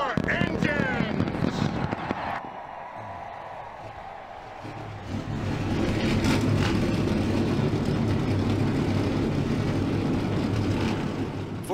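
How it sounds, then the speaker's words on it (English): Dozens of NASCAR stock car engines fire up together on the starting grid at Michigan in the NASCAR Racing 2003 game, a dense sustained low engine roar swelling after a brief quieter gap, with a commentator's voice over the start. "42 engines have come to life here at Michigan"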